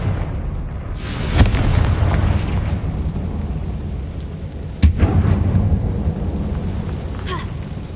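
Confringo fire spell blasts in the Hogwarts Legacy video game, set in a closed-off mine, with two sharp booming explosions, one early and one later, over a steady rumbling ambient background.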